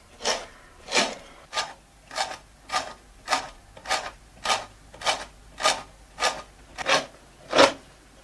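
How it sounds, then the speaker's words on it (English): A hand auger bores angled leg holes into a wooden chair seat, making about thirteen steady, evenly spaced rasping strokes close by with no talk. "The holes for the legs are drilled with an auger. For strength and security, they're drilled at an angle."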